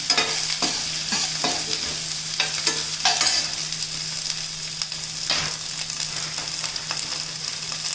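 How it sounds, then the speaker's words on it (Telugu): Onions fry in a pan with a steady sizzle, broken by repeated clinks and scrapes of a spatula stirring against the pan. A low hum runs underneath, and no one speaks. "ఇప్పుడు కొంచెం వేగినాయి కదా ఉల్లిపాయలు, కొంచెం వేగనిస్తాను"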